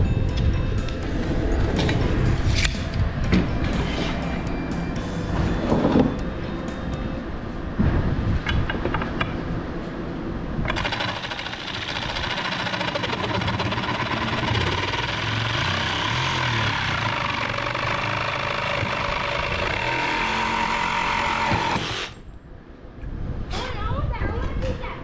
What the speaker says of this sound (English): So what kind of saw is this? A sawzall.